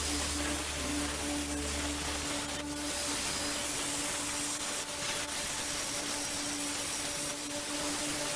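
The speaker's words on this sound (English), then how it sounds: "the angle grinder had to make do" An angle grinder working on steel armor plate for a bullet deflector, a loud continuous whining grind with steady hissing abrasion and brief pitch shifts as the disc bites, running the whole time without talk.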